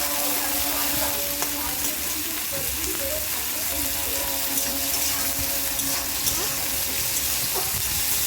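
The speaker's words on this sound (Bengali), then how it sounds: "দেখো খুব সুন্দর ভাজা হয়ে যাচ্ছে এটা" Cut yard-long beans fry in hot oil, giving a loud, continuous crackling sizzle throughout, close up, with faint background noise and no clear speech.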